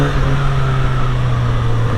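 A 900 cc Kawasaki Z900RS retro motorcycle runs with a loud, steady engine drone and low humming tone, close and continuous, with no voices.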